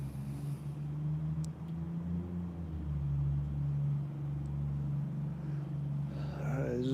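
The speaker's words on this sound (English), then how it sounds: "it was syncing with his engine sound with that loud silver car when he started to drive again" Low, steady engine hum from a silver car idling and then pulling away late at night, a continuous drone that holds level throughout before a faint rising whine near the end.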